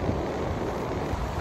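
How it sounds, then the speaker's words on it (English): Wind gusts steadily across an exposed beach in Tasmania, a dense, close rumble of buffeting that fills the moment without any voice. "it's that windy here"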